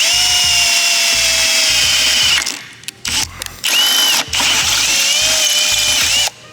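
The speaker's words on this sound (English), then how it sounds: "So what we're gonna do is we're actually gonna use this to tap its own threads." A power drill drives a stainless bolt or tap to cut its own threads into aluminum during a turbo install on a Nissan Silvia S14 SR20DE, a close whirring motor in repeated short bursts with pauses and ratcheting pulses.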